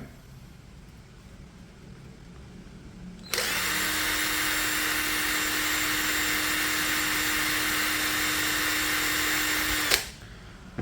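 A Mollar CIDR12150 cordless impact driver with a 1500 mAh battery spins freely at full speed, about 2570 RPM: a loud, steady high-pitched whine starting abruptly, holding for about seven seconds, then cutting off, with no talking.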